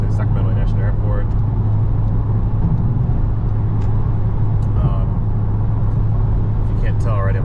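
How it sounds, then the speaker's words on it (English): Honda Civic Type R cruising on a road near Houston, with a steady, loud low road and engine drone heard from inside the cabin. "I'm driving the Type R"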